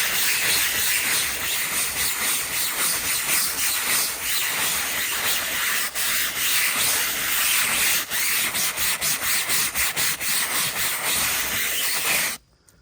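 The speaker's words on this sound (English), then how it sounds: "So we're going to spray it. And we're going to scrub it just a hair." Brush scrubs ink out of a screenprinting screen, a loud, continuous wet scratching hiss with quick stroke-by-stroke pulses, close up, stopping abruptly at the end.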